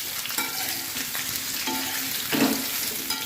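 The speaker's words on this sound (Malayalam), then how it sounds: "കടുകും മുളകൊക്കെ എല്ലാ ഭാഗത്തേക്ക് തന്നെ പിടിക്കാൻ വേണ്ടിയിട്ട് നന്നായിട്ട് ഇളക്കി ചേർത്ത് കൊടുക്കണം" Steamed rice dumplings (kozhukattai) stirred in a pan with mustard seeds and chilli: a steady gentle sizzle with scraping strokes of the spoon, close by.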